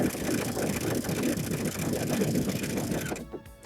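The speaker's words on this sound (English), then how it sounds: "With the scallop stitch that's built in, you're going to notice that the needle position moves and it's going to create these scallops for you" A sewing machine stitches a built-in scallop stitch along a skirt hem, its motor whirring steadily and close, with a continuous rapid mechanical chatter that stops abruptly near the end.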